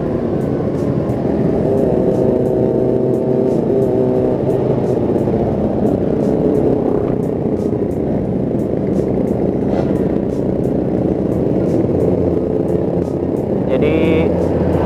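Kawasaki ZX25R motorcycle engine running steadily and loud throughout, a continuous rumble with some rev variation and a brief higher whine near the end.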